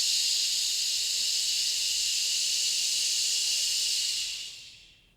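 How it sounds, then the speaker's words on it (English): A long, steady shh exhale from a pranayama breathing practice, a continuous hissing breath held evenly for about four seconds before it fades out, close and alone with no talk. "finish our time together with 6 rounds of this shh breath."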